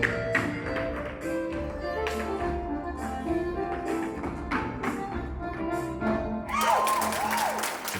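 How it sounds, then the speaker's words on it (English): A crowd applauds after a solo Irish dance performance in the final round of a championship: continuous clapping over music, rising into louder cheering and whoops toward the end. "see the roar in the crowd, everyone clapping for him"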